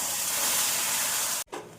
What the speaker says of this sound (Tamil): இந்த அளவு வறுப்படவும் கொதிக்கும் தண்ணீரை சேர்த்து விடலாம்.